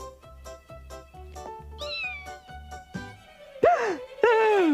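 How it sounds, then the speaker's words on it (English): A cat in a kitchen lets out loud, drawn-out wailing meows near the end, following a rhythmic plucked musical pattern that plays alone beforehand. "Ain't no cats allowed in the kitchen!"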